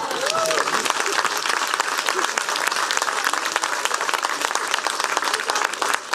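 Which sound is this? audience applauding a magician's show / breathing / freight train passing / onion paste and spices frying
audience applauding a magician's show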